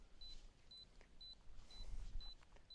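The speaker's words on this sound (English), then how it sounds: "It's bleeping at me." A film camera's 10-second self-timer beeps as it counts down to a shot in Pinnacles National Park. Short, high, evenly spaced beeps come about twice a second, quiet and close, over soft outdoor background noise.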